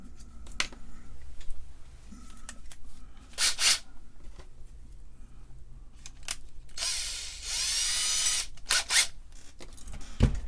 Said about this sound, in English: Let me drill a screw hole here.